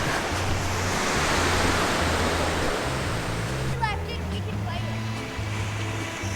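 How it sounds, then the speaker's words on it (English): Ocean surf breaks and washes steadily onto a beach on a cloudy morning, a broad continuous roar with a brief voice heard over it near the end. "The beach."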